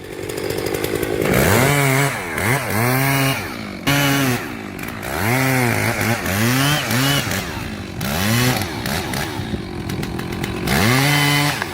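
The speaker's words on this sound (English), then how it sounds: "With a chainsaw in hand, the operator takes down a sturdy birch-like tree in his backyard." A chainsaw roars loudly and continuously, its engine pitch rising and falling in repeated surges as it revs and bites into a sturdy birch-like tree in a backyard.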